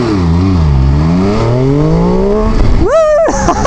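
An MV Agusta Brutale Dragster 800 RR motorcycle accelerates hard on a countryside road. Its engine note climbs loud and close through several rising sweeps, then snaps sharply into a higher shift near the end.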